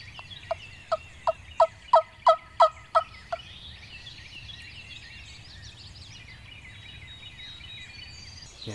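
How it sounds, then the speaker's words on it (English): A distant wild turkey gobbles in a rapid rattling burst of about nine notes across a field in spring turkey season, then quiet outdoor ambience with faint birdsong. "And then I hear one gobbling way farther off."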